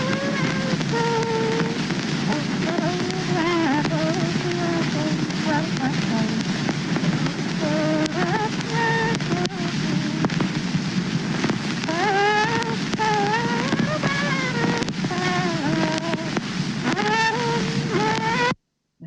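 An archival field recording of a folk song played back, a wavering solo singing voice over heavy crackle and hiss, steady and continuous.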